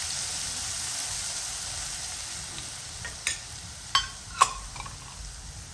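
Green garlic goes into a sizzling pan of hot oil for ragda patties, a steady soft frying hiss with a few sharp crackles and stirring clinks near the end.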